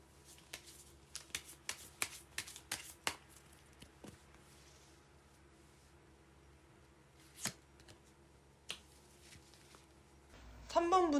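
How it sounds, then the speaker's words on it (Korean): Tarot cards are shuffled in a quick burst of crisp riffling flicks, then a quiet pause before a few isolated card snaps and taps as cards are drawn, close and soft. "조언의 카드를 뽑아보도록 하겠습니다"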